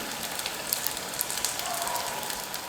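Murukku made from cooked rice fries in hot oil, giving a steady close hiss with dense crackling and bubbling that never lets up. No one talks.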